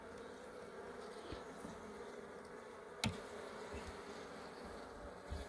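Honeybees and native Korean bees buzz around hives that share a single home in Wando, a faint, steady outdoor hum of many insects with a few louder passes close by.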